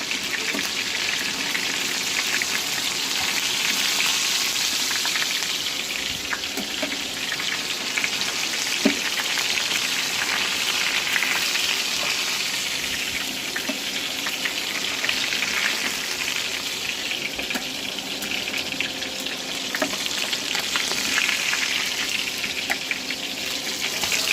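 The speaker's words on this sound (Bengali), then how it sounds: "বাকিগুলো ভেজে নিব এভাবে" Steady, close sizzling of food deep-frying in a pan of hot oil for Eid dishes, a dense crackling hiss that holds evenly throughout with occasional small pops and no talking.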